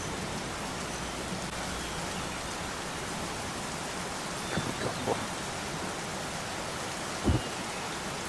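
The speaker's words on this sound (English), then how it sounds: "Anyway, you can come in out of the rain." Steady rain falling in a VRChat game scene, a constant hiss with a few soft thuds and one sharper knock near the end, no voices.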